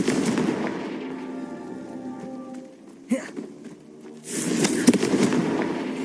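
Spell-casting effects from the video game Hogwarts Legacy: dense crackling, fizzing magical bursts fill the opening seconds, then a quieter humming stretch with a sharp pop midway, before another loud crackling burst with a bright crack near the end.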